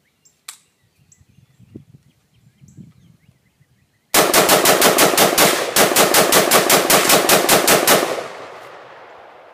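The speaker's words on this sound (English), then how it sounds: "a mag dump with the Bushmaster LR-308 into a dead tree." Bushmaster LR-308 rifle emptied in a rapid mag dump into a dead tree outdoors: after a few quiet seconds of faint knocks, around fifteen loud, evenly spaced shots crack in quick succession, then a short echoing decay.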